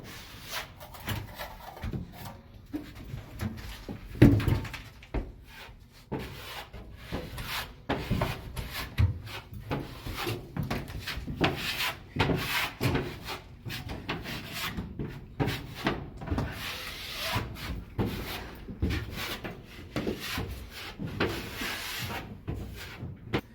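Drywall finishing with taping and mudding of screw holes: close scraping and rubbing of knives over the wall, uneven strokes repeating with small knocks and occasional background voices.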